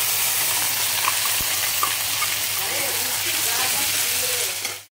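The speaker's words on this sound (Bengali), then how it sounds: "মশলাটা ভাজা হয়ে গিয়েছে, আদা রসুনের পেস্ট।" Ginger garlic paste with cumin, black pepper and onion frying in a pan, giving a loud, steady, close hiss of sizzling oil that runs unbroken before cutting off sharply at the end.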